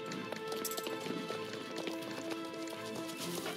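Horses gallop in a video game, a quick, faint clatter of hooves that runs on steadily and evenly with light rhythmic clip-clop beats throughout.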